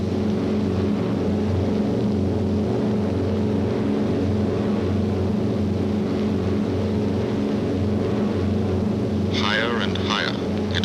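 Multi-engine B-17 bomber aircraft droning steadily in flight at high altitude, a loud continuous piston-engine hum filling the whole stretch, with brief higher whistling or voice-like sounds near the end.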